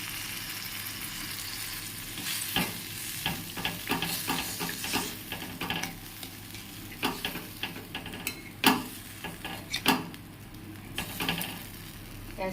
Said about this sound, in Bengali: এবারে সর্ষে যেটা ভিজিয়ে রেখেছিলাম এটা কড়াই দিয়ে দিলাম